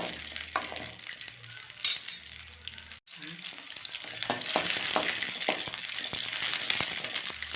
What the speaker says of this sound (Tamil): நம்ம கொஞ்சமாக ஆயில் சேர்த்து சின்ன வெங்காயத்தை சேர்த்துடலாம். சின்ன வெங்காயம் பூண்டு நல்லா வணங்கணும்